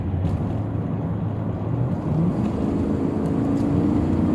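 A 1993 Lexus LS400 with its 32-valve all-aluminum V8 accelerating on the highway, a steady loud engine drone rising in pitch toward the end, heard from inside the car.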